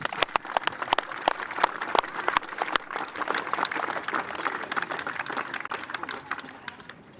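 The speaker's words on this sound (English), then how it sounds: "Can we please give them all a round of applause?" An audience claps for the medalists at a men's open finals day, a dense wash of applause with sharp individual claps standing out, steady and fairly loud for several seconds.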